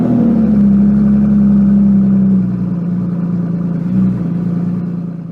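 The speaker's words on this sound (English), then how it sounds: "we had them wire open the exhaust baffles, so it was on loud mode all the time, which is a beautiful tone" An Aston Martin with a manual gearbox and its exhaust baffles wired open runs close and loud with a steady, droning engine note. The tone eases slightly midway and falls away toward the end.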